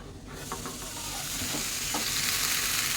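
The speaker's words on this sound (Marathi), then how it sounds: "हे ताट ठेवलं आहे ते बाजूला करू आणि भाजी परतून घेऊ" Dill greens for shepu bhaji are stir-fried in a pan, a steady sizzling hiss that swells louder as the lid comes off, with a few soft scraping stirs.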